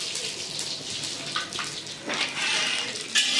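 Panch phoron spice seeds dropped into hot oil, bursts of hissing sizzle that rise and swell in short waves, fairly close and moderately loud.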